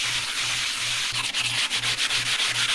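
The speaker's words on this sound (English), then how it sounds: "This better piece of sandpaper that's in better condition." Sandpaper scrubs steadily across a stainless steel camp griddle, a close, continuous rasping with a regular back-and-forth rhythm and no talking.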